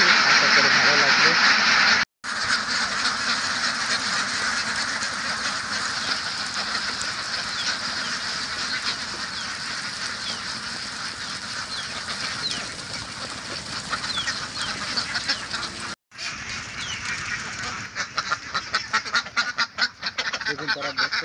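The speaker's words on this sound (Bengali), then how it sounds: "এখন হাঁসগুলোকে ছেড়ে দেওয়া হবে" A flock of Khaki Campbell ducks on a farm quacks continuously in a dense, loud, close chorus that barely breaks for the whole stretch.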